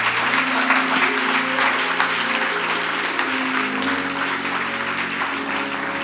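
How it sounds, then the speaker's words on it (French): A church congregation cheers and applauds for several seconds, a dense, loud wash of clapping with scattered shouts, and a sustained tone lingering underneath. "Tu peux acclamer le Seigneur."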